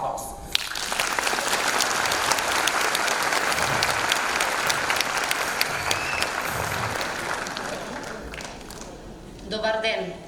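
Audience applause greeting the school director at a primary school's 70th anniversary jubilee in Skopje, a loud sustained roar of clapping from a hall full of people that fades toward the end as a voice begins.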